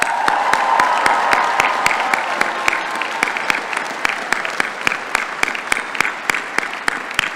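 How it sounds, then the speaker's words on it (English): Sustained applause from a large audience at a university College of Chemistry commencement ceremony, steady dense clapping throughout with a faint voice early on. "One more round of applause for all of you."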